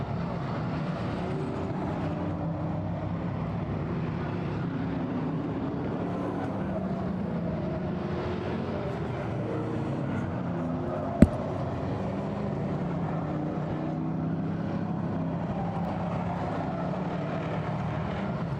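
Race cars roar around the track at Claremont Motorsports Park in a steady, droning blend of engines held at speed, with no break in the noise and one brief sharp click partway through.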